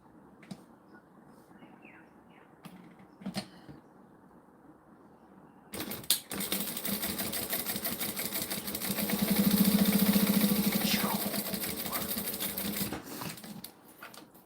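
A sewing machine runs a long continuous burst of rapid, even stitching through glow-in-the-dark spider fabric for a coffin lining, close and steady, after a few quiet handling clicks.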